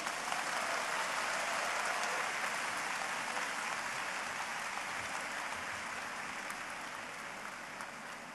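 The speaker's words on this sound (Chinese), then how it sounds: "让我们再次以热烈的掌声" Dense, steady audience applause at the 2015 Shantou University graduation ceremony, a large crowd clapping continuously and evenly with no talk over it, easing very slightly in loudness toward the end.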